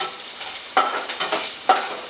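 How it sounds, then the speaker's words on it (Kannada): Black peppercorns fry in hot oil while making chicken chops, setting off a soft steady sizzle. About three sharp, close crackles pop out at irregular intervals. "ಆವಾಗ ಕಾಳು ಮೆಣಸು ಸಿಡಿಯುತ್ತೆ,"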